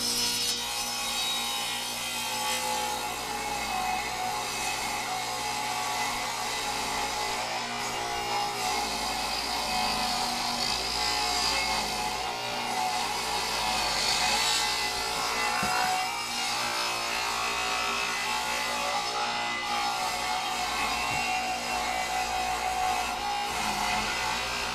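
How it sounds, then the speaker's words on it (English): White pine boards being ripped to size with a saw, a steady rasping wood-cutting noise that runs continuously and fairly loud for the whole stretch with no talking. "So let's get them ripped down to size."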